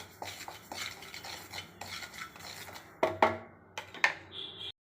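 Poppy seeds dry roasted in a hot pan while being stirred, with scraping and rustling strokes, then a few sharper metallic clinks of the spoon against the pan near the end.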